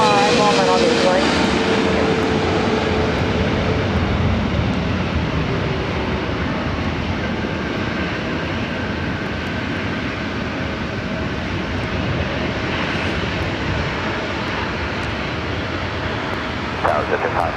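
A JetBlue Airbus A320 jet departs LAX bound for SFO, its engines producing a steady, loud broadband roar that holds throughout under intermittent speech.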